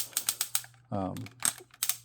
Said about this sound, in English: Sorry about the clicking noise. It's really heavily ratcheted.